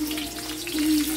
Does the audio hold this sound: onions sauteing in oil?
yes